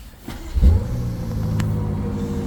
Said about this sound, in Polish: pokażę Wam jeszcze jak brzmi, bo w M5 ten aktywny układ wydechowy to jest dosyć istotna opcja wyposażenia i to auto naprawdę dobrze brzmi